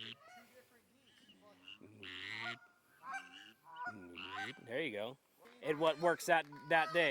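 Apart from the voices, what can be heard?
whistling duck call being blown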